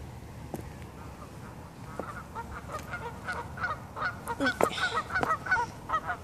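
Geese or swans honking at a park pond, a growing chorus of repeated nasal honks from several birds, starting sparse and faint and becoming louder and denser, over a soft outdoor background.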